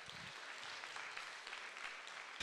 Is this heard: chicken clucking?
no